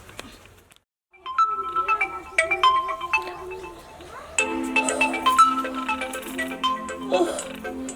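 A phone ringtone plays a bright electronic melody of repeated tones, clear and close, after a brief pause at the start.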